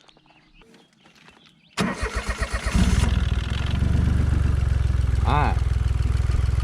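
A 1000cc buggy engine cranks in a quick series of pulses, catches, and settles into a loud, steady idle close by. A voice speaks briefly before the start.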